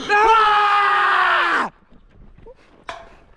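Two hikers scream together as loudly as they can in a shouting contest on the Alta Via 1 mountain trail. The long, piercing cry is held for about a second and a half, then cuts off, and a short yelp follows.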